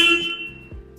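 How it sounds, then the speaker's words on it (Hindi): A short, sharp horn beep from a 2024 Royal Enfield Himalayan 450 motorcycle sounds close by, a bright buzzy tone that cuts off quickly, followed by low mechanical noise. "तो हॉर्न सुन लेते हैं।"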